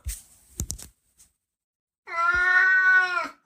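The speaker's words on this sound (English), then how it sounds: "What is your problem, you weird cat?" A house cat gives one long, loud, drawn-out meow close by, heard after a few soft thumps and a short pause, with no talk.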